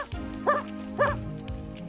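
A dog barks in a French-dubbed Transformers Rescue Bots cartoon, two short yips about half a second apart over a music and effects bed.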